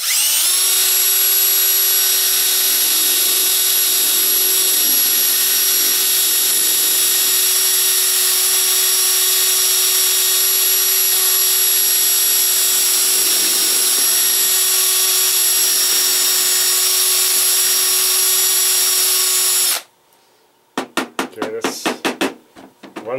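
Power drill running steadily for about twenty seconds with a sustained whine, driving a short bit into a Husky LED flashlight, then cutting off, followed by a few brief handling noises.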